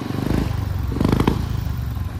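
A motorbike engine idles steadily after starting, a low continuous rumble with a brief louder burst of clatter near the middle, heard close and without talk.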